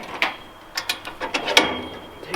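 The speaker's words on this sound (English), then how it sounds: "take our kickstand, flop it over" A chicken coop trailer's metal kickstand is flipped over, making a few sharp clanks and rattles close by, with no talking.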